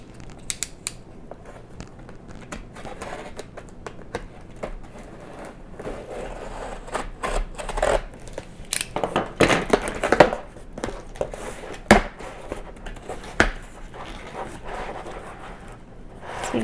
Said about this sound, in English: So I'm going to use an X-Acto knife to open the box.